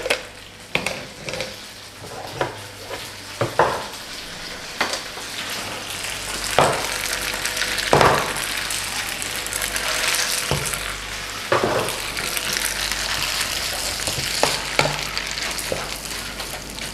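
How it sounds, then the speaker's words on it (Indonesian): Spaghetti with red tomato pesto sizzling in a pan while being stirred, with scattered scrapes and clacks of the utensil against the pan over a steady frying hiss; no voices. "Oke, ini akan gua aduk-aduk dulu sampai rata ya"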